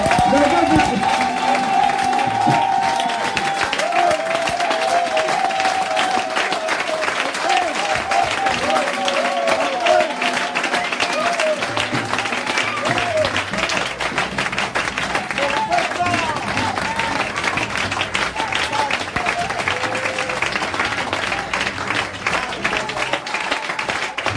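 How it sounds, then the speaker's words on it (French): Church congregation breaks into long, sustained applause with dense clapping and some cheering for over twenty seconds, while a voice keeps talking over the crowd. "Applaudissez les gens pour ça."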